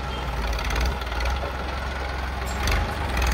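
A tractor hoists a heavy manure spreader on a farm, its diesel engine droning steadily and loudly with low rumble throughout, no voices.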